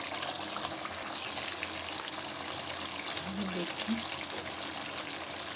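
Chicken karahi is sizzling and being browned in a wok with kadai masala, a dense, continuous frying hiss that runs the whole time, with a brief spoken word over it.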